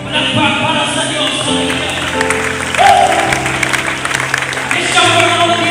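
An audience at a church preaching contest applauds steadily throughout, with voices and music tones mixed in over the clapping.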